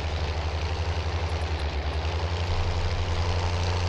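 A tractor engine laboring uphill in Farming Simulator 19, a steady, heavy low rumble with a pulsing throb, close and continuous throughout, no voices.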